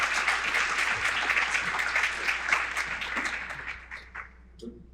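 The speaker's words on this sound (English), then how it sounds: "maybe one more round of applause for Eliza" A conference audience at a Tulalip panel applauding, a dense, steady wash of many hands clapping that gradually thins and fades out near the end, moderately distant.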